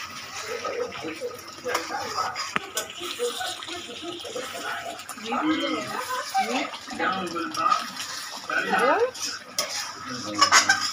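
Chicken korma is stirred with a ladle in a pot, giving soft wet swishing and scraping with occasional metal clinks, under faint speech.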